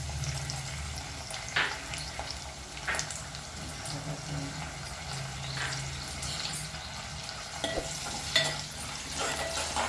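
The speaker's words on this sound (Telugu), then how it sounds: "ఉల్లిపాయలు బఠానీ ఇట్లా ఫ్రై చేసుకోవాలి" Onions and peas frying in a pan for a carrot fry, with a quiet continuous sizzle and scattered spoon scrapes and taps at irregular intervals, close by and without voices.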